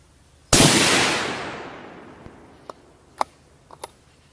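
A single precision rifle shot cracks loudly and close, its report decaying over about two seconds, followed by a few faint, sharp distant clicks or pops.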